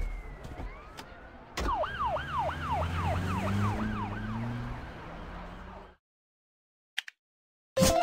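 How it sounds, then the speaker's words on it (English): A video game police car siren wails with rapid rising-and-falling sweeps over engine rumble, then cuts off, with a few short clicks afterward. "Police car."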